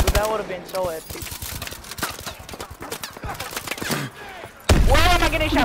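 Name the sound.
gunfire in Call of Duty Advanced Warfare video game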